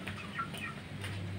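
Bangkok rooster chickens at a breeder's farm in Cianjur, West Java, give a few soft clucks over faint background noise, quiet and somewhat distant.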